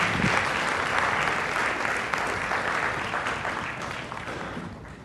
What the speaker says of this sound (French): On les applaudit ensemble.